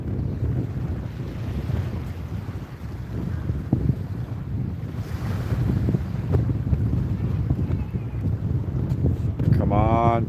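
Steady wind buffeting the microphone while sailing a boat on a cool, windy day at sea, with constant roaring gusts, water wash underneath and a brief voice near the end.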